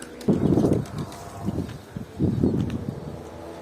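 Young white pigeons cooing and flapping their wings close by, with three bursts of soft wingbeats and low murmuring coos between them.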